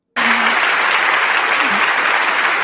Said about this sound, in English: that alone is an applause line